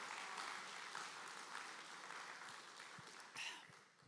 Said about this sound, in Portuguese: você pode aplaudir o Senhor, irmãos, por esse milagre?